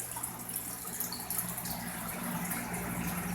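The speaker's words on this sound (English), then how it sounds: "I'm going to do a complete water change." Water runs steadily and fairly loudly during a complete water change in a tank for Pacific Mexican musk turtles, a continuous rushing splash with no speech.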